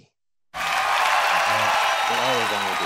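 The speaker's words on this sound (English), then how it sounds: "Give a big round of applause, please, for Mr." Studio audience claps for a podcast co-host as he is introduced, a sudden loud wall of applause starting after a brief silence and holding steady, with a voice talking over it.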